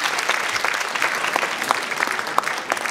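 Audience applause at a kindergarten dance contest, a steady dense patter of clapping hands filling the whole stretch at moderate loudness with no voices over it.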